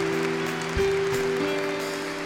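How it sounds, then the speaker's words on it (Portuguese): Congregation clapping inside a church during Eucharistic adoration at a religious festival, a dense steady patter that runs the whole stretch over sustained organ-like tones, with a slight swell partway through. "uma salva de palmas ao Senhor"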